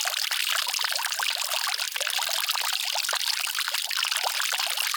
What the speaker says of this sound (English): So we will top it up with the well water.